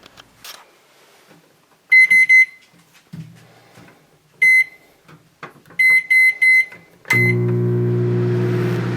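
A repaired microwave oven is plugged in and tested in a kitchen, giving several clusters of sharp electronic beeps from its control panel before settling into its steady humming run, with no talking.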